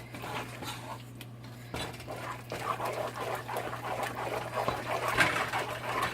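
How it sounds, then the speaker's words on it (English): A spoon stirs homemade mac and cheese seasoned with black pepper in a pot, making soft, continuous scraping and clinking that stays faint throughout. "Alright, so we're gonna mix."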